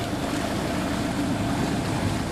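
A sailboat's engine runs at sea to charge the batteries on an ocean race from Auckland to Fiji, a steady, dense droning rumble mixed with rushing water and wind, continuous and loud throughout.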